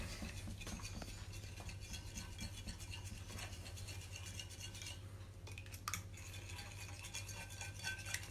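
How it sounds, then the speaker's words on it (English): A fork mixing lemon drizzle in a bowl, faint quick scraping and clinking strokes against a steady low hum, quiet and close. "with a fork, all you do then is mix it all up. Give it a mix."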